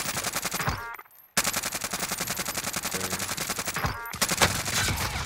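Rapid automatic gunfire in Call of Duty Warzone, loud sustained bursts of fast rhythmic shots with a short pause around one second and another brief gap near four seconds before firing resumes.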